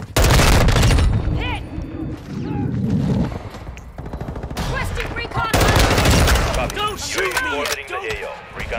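Rapid automatic gunfire from an M4 rifle in the video game Modern Warfare 2 rattles in loud, dense bursts across most of the stretch, while players talk over the shooting.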